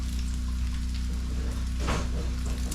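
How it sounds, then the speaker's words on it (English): Constant crackling sizzle of frying bacon, with a low steady hum beneath and a short burst of spattering near the end. "it will still keep sizzling here on this paper towel"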